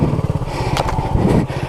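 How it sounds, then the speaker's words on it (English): Honda CB250RS motorcycle engine braking on a downhill off-road green lane, a close, steady low engine drone with rhythmic pulsing and a couple of brief rattling clatters partway through. "this is the old off-road engine braking technique"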